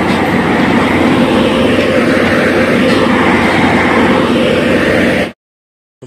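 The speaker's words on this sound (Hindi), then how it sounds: "अब ये मशीन जाएगी अगले स्टेशन पे, तो हम लोग इसी मशीन से चले जाएंगे अगले स्टेशन पे" A railway track maintenance machine travelling along the line to the next station gives a loud, steady rumble and rattle of rolling wheels close by, continuous for several seconds before cutting off abruptly.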